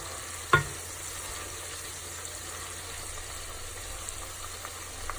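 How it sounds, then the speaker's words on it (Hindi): Okra fries in oil in a pan for crispy bhindi, a constant close sizzle with one sharp clack of a utensil near the start and faint stirring scrapes afterward. "जैसा कि आप देख सकते हैं कि भिंडी फ्राई हो रही है"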